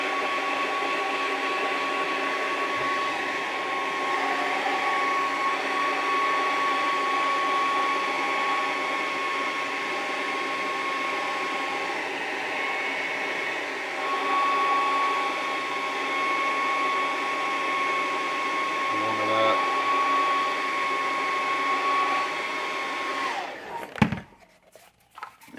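A hot air blower runs steadily, heating the torso of a 1/6 scale vinyl model kit at a desk: a loud, continuous whine and rush of air with a steady tone that cuts off abruptly near the end.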